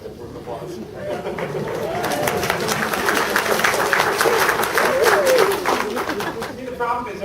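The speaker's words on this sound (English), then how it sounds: "That's worth applause." Applause from the crowd at a horror film panel discussion swells in the middle and fades again, mixed with voices talking and calling out over it.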